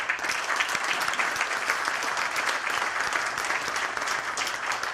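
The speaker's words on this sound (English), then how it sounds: "So please give yourselves a round of applause." A breakfast event crowd gives itself a round of applause, dense, steady clapping filling the room at an even level from start to finish, with little else heard.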